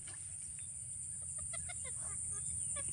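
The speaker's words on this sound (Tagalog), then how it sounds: "May ibon guys" Faint chirps and clucking calls from birds, including chickens, repeat in short bursts against a steady hiss and low rumbling background at a rice farm.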